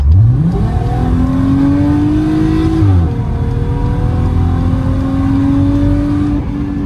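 A VW Golf R32 accelerates hard, its engine revving up loud and close with a rising whine, a quick gear change dip around midway, then pulling strongly again.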